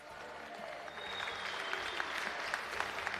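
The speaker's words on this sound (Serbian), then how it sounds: "dominantna pobjeda Ljubo Krstić, veliki aplauz!" An audience at an armwrestling supermatch applauds with a steady, moderately distant patter of clapping that holds throughout, with faint voices underneath.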